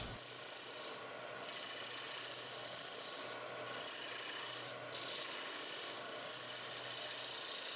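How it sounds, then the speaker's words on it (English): A bedan cuts a ring-shaped mortise into maple or mahogany spinning on a wood lathe, a continuous dense scraping hiss that dips briefly a few times, close and steady, no voices. "I am using a bedan to perform this mortise with a ring shape"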